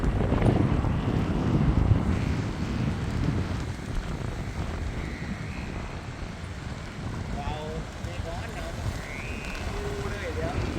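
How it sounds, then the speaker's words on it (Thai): Strong gusting wind roars and buffets the microphone outdoors while a four-metre dragon kite flies, a steady broadband rush running throughout with faint background voices. "ปีกอ่อนแรงลมแรงค่ะ"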